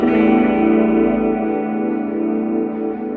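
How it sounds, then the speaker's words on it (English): A PT2399 delay tuned as a slapback space echo: a loud, sustained distorted tone with short repeats and a gentle warble that gradually fades over a few seconds. "it sounds quite natural to a space echo."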